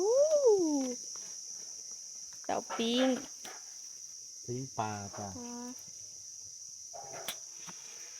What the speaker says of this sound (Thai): จิ้งหรีด เสียงโคตรดัง